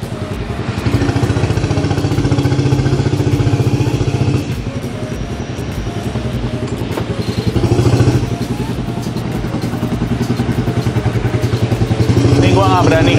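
A turbocharged Honda Beat scooter engine, not yet warmed up, revs and putters steadily while riding, rising and falling with throttle changes, with people talking over it.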